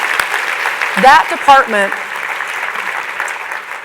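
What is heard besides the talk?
audience applause for housing department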